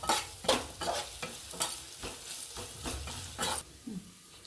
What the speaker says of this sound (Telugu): ఇప్పుడు ఇవన్నీ ఫ్రై అయిపోయి బిగ్ స్లైస్ ఆనియన్స్ ఇందులో వేసుకుంటున్నాం. ఇప్పుడు ఇవన్నీ బాగా మిక్స్ చేసుకోవాలి.